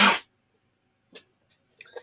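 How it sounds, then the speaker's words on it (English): A single close, sharp sneeze bursts out right at the start during indoor work on an illustrated book spread, followed by near silence with a few faint, soft sounds. "I have to sneeze."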